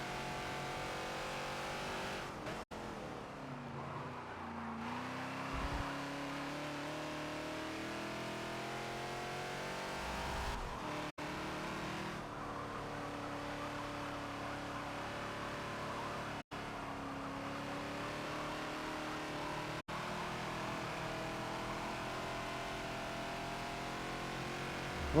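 Ford Falcon XB engine held at full throttle while racing at Road America in the Forza video game, a loud steady roar with rising and falling gear-change sweeps and brief dips between shifts, alone without talk.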